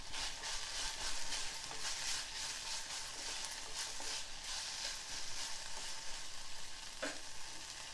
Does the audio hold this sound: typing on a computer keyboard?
no